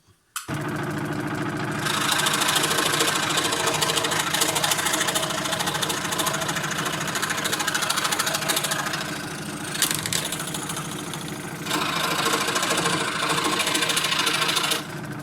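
A Scheppach Deco XL scroll saw cutting thin plywood, its motor and reciprocating blade giving a loud, steady, close buzzing whir that swells and eases slightly as the cut goes on.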